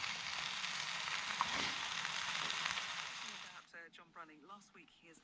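Bacon sizzles steadily in a pan at a wild camp on a Northumbrian crag, a close, even crackle that breaks off near the end as a voice starts talking.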